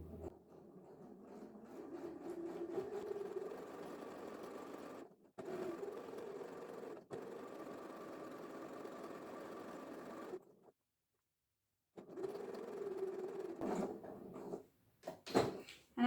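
A sewing machine top stitches a reversible sun hat with a long 4-5 mm stitch, whirring steadily in quiet, faint runs broken by brief pauses and a short silence, then a few handling knocks.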